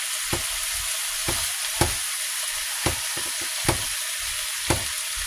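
A chicken stir fry cooking in sesame oil sizzles steadily and close by, with sharp spoon knocks or stirring clacks landing at roughly regular intervals, about once a second.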